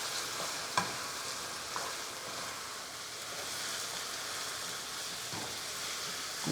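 Chicken curry being stirred in a hot pan after curry powder is added, with a steady sizzle of frying and a few brief scrapes of the spoon against the pan, close and without talk.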